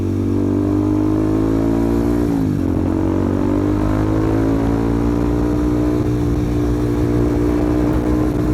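Loud motorcycle engine revving hard close by, a steady mid-pitched roar that dips briefly and then climbs again through the pitch, continuous with no talk.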